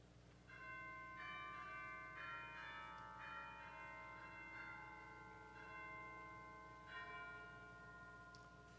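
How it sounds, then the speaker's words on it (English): Church chimes ring out in a slow sequence of clear, sustained bell tones, with several struck notes layered into a lingering resonant ring, loud and close in a church sanctuary with no talking. "First, the chimes."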